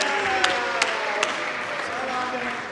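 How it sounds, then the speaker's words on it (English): Audience applause at a Broadway song evening, a steady wash of many hands clapping with a few sharper claps standing out and crowd murmur underneath, sustained throughout. "Give yourselves a round of applause"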